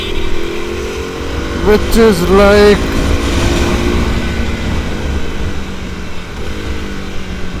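A KTM motorcycle with a heat-wrapped exhaust gives a moderate, close engine and exhaust rumble that briefly rises and falls, while someone talks over it.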